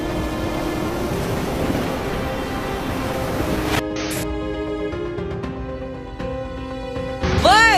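Loud rushing floodwater in Jakarta after heavy rain roars steadily for several seconds, then gives way to a mix of clattering and tonal sounds, with a rising whoop near the end.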